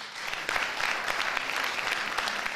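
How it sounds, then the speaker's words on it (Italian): Enthusiastic audience applause at an academy event honoring a sociologist, a thick continuous clatter of many hands clapping, fairly steady and moderately loud throughout. "un bellissimo applauso"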